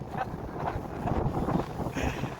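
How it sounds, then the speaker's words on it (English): Wind gusting at a wild camp on an exposed Lake District height, buffeting the microphone with loud, irregular rumbling bursts over a short stretch. "Guys, it's windy up here."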